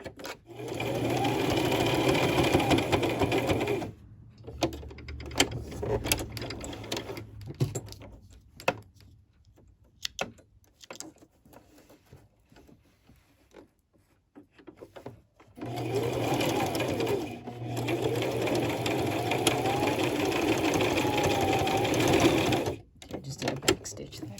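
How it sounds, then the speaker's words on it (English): A sewing machine runs a zigzag stitch in two long bursts of rapid, rhythmic stitching, separated by a quieter pause with faint handling noises and clicks. "So now we can sew it on the sewing machine"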